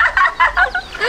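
Several short, high chirping peeps from chicken chicks in quick succession, close by and fairly loud, with no talking.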